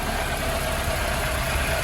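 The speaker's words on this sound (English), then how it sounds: "the engine's been running for actually about 15 minutes now" A Vauxhall HC Viva engine idles steadily after a viscous fan replacement, a continuous even rumble with no speech, heard close and moderately loud.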